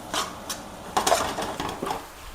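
Onions, green chillies, ginger garlic paste and curry leaves are stirred in a pan, with close scraping and clinking of a utensil against metal in a few irregular bursts.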